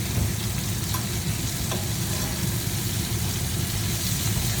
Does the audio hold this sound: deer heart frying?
yes